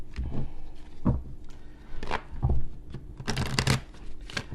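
A tarot card deck is shuffled in close, crisp bursts of riffling and sliding cards, several quick flurries separated by short pauses, with no talking.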